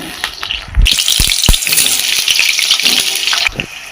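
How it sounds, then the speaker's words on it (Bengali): Potatoes frying in hot oil in a wok: after a couple of soft knocks, a loud, bright sizzle bursts in and hisses steadily, broken by a few dull thumps before easing near the end. "আমি এখন মটন কষা করব। তার জন্য আমি আলুটাকে ভেজে নিচ্ছি।"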